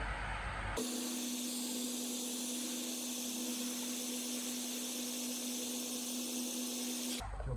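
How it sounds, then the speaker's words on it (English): A very hot hair dryer warming a freshly painted BMW X1 panel switches on and runs with a loud, steady whooshing hiss and a constant motor whine, then cuts off near the end. "The very hot hairdryer."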